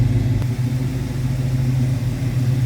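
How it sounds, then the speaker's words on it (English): A 1967 Dodge Coronet wagon's 318 V8 idles with a deep, steady low rumble, loud and close, with no voices over it. "A little rumble coming out of that 318."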